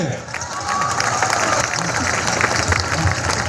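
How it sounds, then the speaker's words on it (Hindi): A crowd at a Jan Suraaj party convention claps loudly for a teacher, a dense continuous wash of applause mixed with cheering voices. "इनके लिए ताली बजाइए जोर से।"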